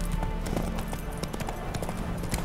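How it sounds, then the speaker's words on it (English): Horse hooves clip-clop at a steady, fast rhythm while riding in the video game The Witcher 3: The Wild Hunt, the regular beats running continuously over a low game soundscape. "And we will ride our horse, of course. We're not walking."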